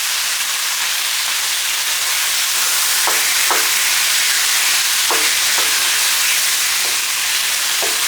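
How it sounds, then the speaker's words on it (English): Lamb pieces sear in a hot pan for a Cantonese stir fry, a loud, dense, steady sizzling hiss heard up close with a few faint clinks of a utensil, and no one talking. "You'll need to cook these lamb pieces for about 5 minutes on each side until it's seared."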